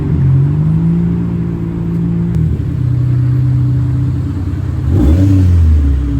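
Engines of several cars, a Nissan S15, a Mazda FD and a Miata, rumble nearby as they pull away on a group drive in NYC, with a steady drone that dips and rises in pitch as they rev and shift.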